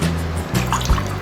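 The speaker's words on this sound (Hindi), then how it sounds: "तो मैं 3 बाउल पानी डालूंगी" Water, double the amount of rice, is poured over 1.5 bowls of rice in a bowl: a short, moderately loud trickling splash under a steady low hum, with no talking.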